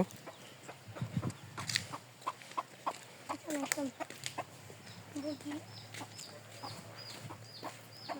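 Chickens cluck repeatedly at a farm's poultry project, short clucks and calls scattered across the scene at moderate distance, with people talking nearby.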